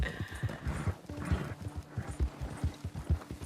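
Horse hooves clip-clop in a steady, fairly close rhythm in Red Dead Redemption 2, a game, with the ridden mare taking repeated even footfalls across the whole stretch and no talk over them.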